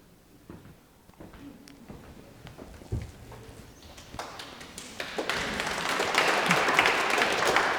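An audience breaks into applause, starting as scattered claps and swelling into sustained, dense clapping that grows louder toward the end.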